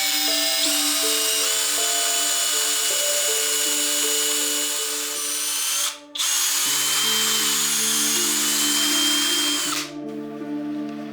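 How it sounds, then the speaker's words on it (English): A power drill whines loudly and continuously at high speed drilling pocket holes in clamped wood, its pitch shifting as it bites in and struggles, briefly cutting out twice before spinning up again. "clamp it in place, and drill away."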